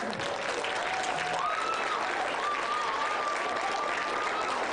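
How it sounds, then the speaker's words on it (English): Audience applauding at a spring band concert, a broad sustained roar of clapping from a large crowd, with a whoop or two rising over it. "So that's a huge round of applause for everybody here."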